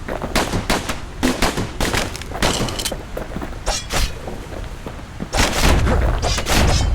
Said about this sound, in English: You know what's better than having a slinger pistol in a fight?